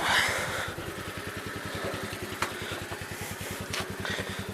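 A small engine with a choke, probably just started, runs with a rapid, even chugging pulse throughout, moderately loud and close, with a few faint clicks on top.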